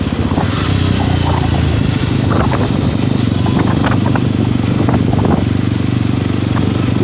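Yezdi Roadster motorcycle accelerating on a test ride, its engine thumping steadily with a loud constant exhaust note and wind noise, a few faint bursts of speech underneath.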